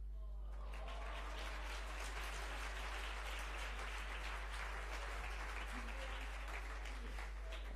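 Steady audience applause fills a concert hall at a university tour event in Murcia, a dense continuous wash of many hands clapping at moderate level with a low hum underneath, no talk over it.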